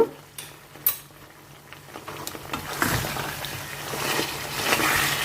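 A spoon stirs cornflour into a curry in a pan. A few sharp metallic clinks come first, then a steady scraping and swishing that grows fuller and louder toward the end.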